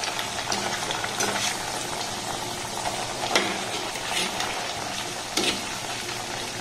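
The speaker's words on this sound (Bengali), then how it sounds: "এটাকে আমি একটু তেল বেশি দিয়ে ডুবো তেলে ভাজছি।" Dough balls made from wheat-flour dough deep-frying in plenty of hot oil, a steady bubbling sizzle with soft crackles and a few sharper spikes of spattering, close and fairly loud, with no talk.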